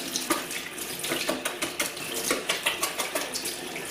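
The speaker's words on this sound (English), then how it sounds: "I'll just give it a rinse" A tap runs steadily into a sink while a paint brush is rinsed clean after painting a wall, with small rhythmic splashes and knocks as the bristles are worked under the stream.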